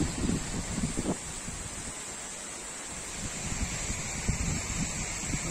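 Wind gusting steadily outdoors beside a river near a hidden ephemeral waterfall above Uchan-Su, a continuous broadband rush with buffeting low rumbles across the microphone, no voices.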